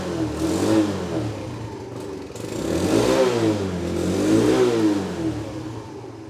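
A Sym Symba scooter engine runs close by with a steady mid-pitched drone that swells into several revs and falls back again, and no one speaks over it.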